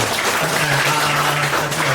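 Audience clapping at a fashion design forum, filling the whole stretch as a steady, dense wash of applause close by, with a low hum running underneath and no talk.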